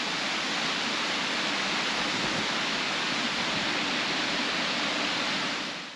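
A waterfall roars in a dense, steady rush of white water, constant and full throughout with no other sounds.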